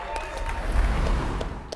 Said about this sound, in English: Drawing round of applause from the crowd.